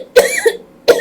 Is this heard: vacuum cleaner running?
no